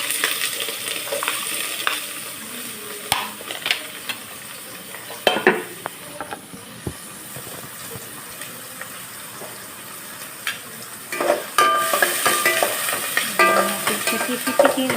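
Garlic, onion and ginger sauté in a pan with a soft sizzle, broken by scraping stirs and clatters at irregular intervals, and the sizzle swells louder near the end.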